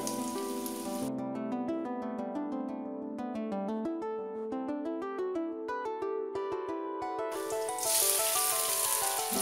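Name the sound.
bread slices frying in oil in a pan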